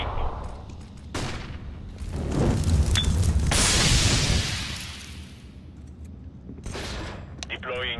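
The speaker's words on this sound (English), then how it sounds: "Flashbang." A flashbang grenade goes off in Counter-Strike: Global Offensive, a loud burst followed by a long ringing hiss that fades away, with a few sharp game shots near the end and a voice speaking over the noise.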